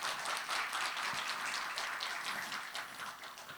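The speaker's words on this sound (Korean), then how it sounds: "다시 한번 큰 박수 부탁드리겠습니다" Audience applause after a lecture at a brain trainer wellness conference: a steady, fairly loud patter of many hands clapping that holds for several seconds and eases slightly toward the end, with no talking.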